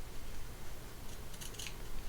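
Two or three quiet scissor snips click near the end as notches are cut into fabric, faint over a steady background hiss.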